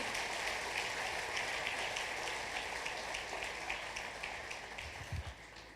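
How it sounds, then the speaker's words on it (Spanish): Church congregation applauding God during a sermon on the multiplication of loaves, a sustained, fairly faint wash of clapping from a large room that fades a little toward the end, with a few low thumps near the close. "ese aplauso a Dios"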